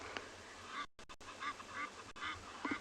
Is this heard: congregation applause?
no